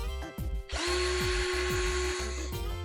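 A 48V cordless drill whirs up to a steady high-pitched spin for about two seconds, close by, then stops; faint rhythmic clicks underneath. The drill bit wobbles, spinning out of true.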